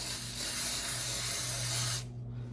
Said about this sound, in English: So let me spray that pretty good with some